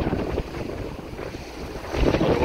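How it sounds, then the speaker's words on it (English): Strong incoming tidal flow in the St Lucia estuary, a continuous rushing wash of water mixed with heavy wind buffeting on the microphone, building slightly louder toward the end. "So the water's coming in strong."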